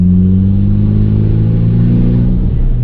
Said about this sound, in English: The SST gearbox, the engine, the 4B11T engine, it just did absolutely wonders